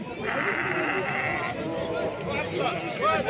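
A lamb bleats faintly at an outdoor livestock market, partly masked by busy crowd chatter and voices around it.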